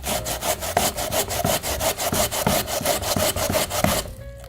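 A raw potato is grated against a kitchen grater in steady, rhythmic back-and-forth rasping strokes, close and loud, about fifteen scrapes before stopping.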